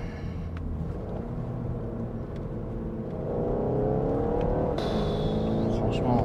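Volkswagen Golf 8 GTD diesel hatchback driven hard through corners on a closed road, engine note rising and settling as it pulls between bends, with wind and road noise.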